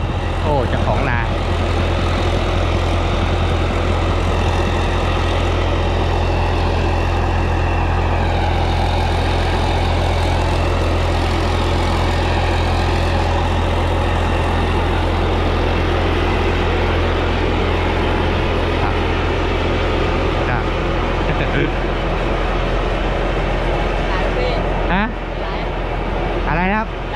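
A rice combine harvester's engine runs steadily and loudly in a paddy field, a constant low heavy drone lasting throughout, with people talking over it.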